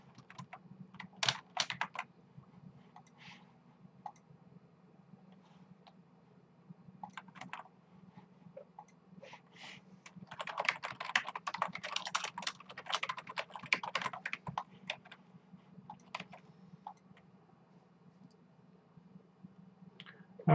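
Computer keyboard typing while logging in to the Grammarly spellchecking tool, irregular bursts of clicky keystrokes with pauses between, a denser run of rapid typing in the middle, close and fairly quiet over a low steady hum.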